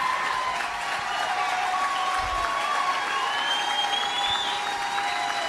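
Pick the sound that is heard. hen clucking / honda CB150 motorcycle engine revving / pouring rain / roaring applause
roaring applause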